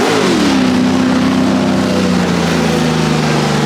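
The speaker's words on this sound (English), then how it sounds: "the McLaren M80F Can-Am car goes past us again really loud" A loud McLaren M8F Can-Am race car engine roars close by, its pitch dropping smoothly as it speeds past, leaving a sustained low drone.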